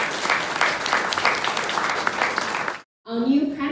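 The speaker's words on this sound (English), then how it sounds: "That deserves a big round of applause." Audience applause at the opening of a regional headquarters in Singapore, a dense burst of clapping that runs for nearly three seconds, then cuts off as a voice begins speaking.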